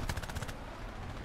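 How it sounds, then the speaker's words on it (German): A short rapid burst of aircraft cannon fire in the War Thunder video game, fast repeated shots over a steady engine drone that continues after the burst stops. "Ich könnte schwören, dass der Sound von diesen Kanonen niemals so klang."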